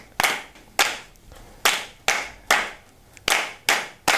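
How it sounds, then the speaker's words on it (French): A Catholic women's group claps in its own distinctive style, a slow rhythm of about eight loud, single unison claps spaced roughly half a second apart, close and alone. "on va commencer par applaudir comme les femmes catholiques, elles ont leur façon à elles spéciale"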